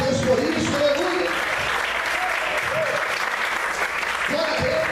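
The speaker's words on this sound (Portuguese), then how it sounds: "Você pode aplaudir o Senhor e adorar a Deus por isso." A church congregation claps at a Portuguese-language worship service led by a pastor, a dense, loud, sustained wash of applause with voices singing or calling out over it throughout.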